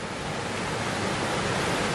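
A fast, high-running clear creek rushes loudly and continuously, a full broadband roar close to the listener with no voices.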